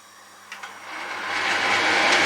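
A kitchen range hood fan switched on, its motor spinning up from near silence into a steady rising whir that holds loud and close after a couple of light clicks.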